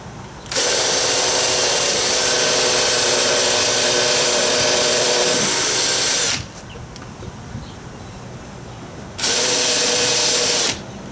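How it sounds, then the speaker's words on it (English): A power drill boring a small hole runs loud and close in a steady whine for about six seconds, stops, then gives a second short burst of roughly two seconds. "Drill a little hole right here."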